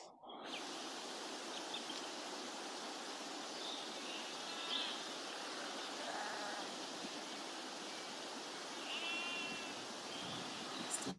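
Sheep bleat faintly in the background of an outdoor countryside scene, a few distant calls rising over a constant broadband hiss like running water, with no talking.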